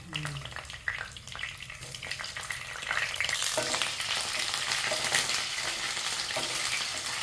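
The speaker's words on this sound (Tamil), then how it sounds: "எண்ணெய் காஞ்சதும் கத்திரிக்காய் போடாமா? ஆமாம். கத்திரிக்காயை போடுறீங்க." Brinjal pieces dropped into hot sesame oil, setting off a loud, dense, close sizzle that swells and keeps crackling steadily, with occasional stirring scrapes.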